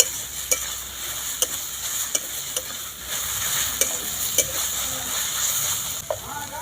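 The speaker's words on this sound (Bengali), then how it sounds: "লবণটা দিয়ে ভালো করে নাড়াচাড়া করে নেব" Food is stirred with salt in a hot frying pan, giving a steady close sizzle with repeated sharp scrapes and taps of a spoon against the pan at an uneven rhythm.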